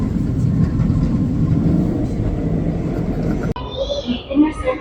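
Train running on elevated rails in South Korea, a steady low rumble that gives way to a brief higher whine and shifting mechanical tones near the end.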